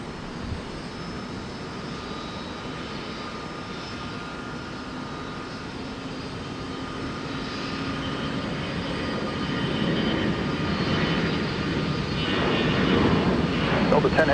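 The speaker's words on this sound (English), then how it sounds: "So this is a former Northwest Airlines aircraft." A former Northwest Airlines jet at Minneapolis–St. Paul Airport, its engines a broad steady roar that swells gradually, with someone talking and tower radio chatter over it.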